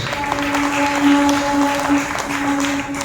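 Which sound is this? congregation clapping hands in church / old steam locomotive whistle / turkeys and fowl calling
congregation clapping hands in church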